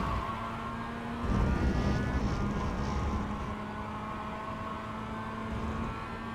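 Mazda MX5 race car in the iRacing sim at Interlagos, getting back on the gas in second gear: a steady engine drone that swells louder for a few seconds and then settles to a constant hum, with no talk over it.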